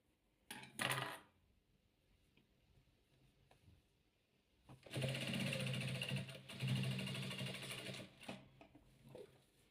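A sewing machine stitches patchwork quilt pieces, with a short whirring burst at first and then a longer, louder run of rapid needle clatter. Softer rattling pauses come between the runs, all close by.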